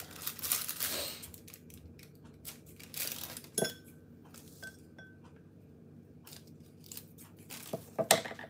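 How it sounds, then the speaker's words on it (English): Scissors snip at a plastic piping bag while decorating a 6 inch wedding anniversary cake, a few short crisp cuts and crinkles scattered among light clinks and handling noises in a quiet kitchen. "Scissors."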